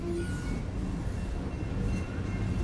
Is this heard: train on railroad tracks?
yes